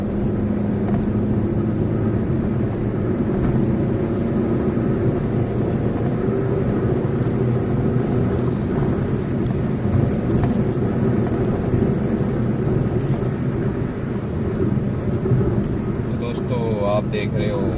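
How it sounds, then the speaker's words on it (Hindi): Busy highway traffic of bikes, cars and trucks passes on the road from Roorkee to Haridwar, a steady, dense engine roar and tyre rumble with no breaks across the whole stretch. "आप देख रहे हो ट्रैफिक चल रहा है, कोई बाइक से, कोई कार से, कोई ट्रक से।"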